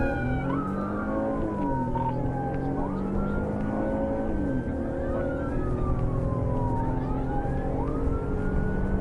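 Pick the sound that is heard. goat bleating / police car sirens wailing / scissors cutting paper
police car sirens wailing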